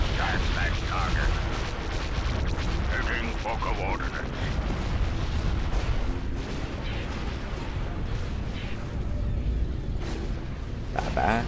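Laser cannon fire and explosions in a Star Wars: Empire at War space battle, a dense, continuous roar of blasts and booms running loud throughout, with voices talking over the barrage.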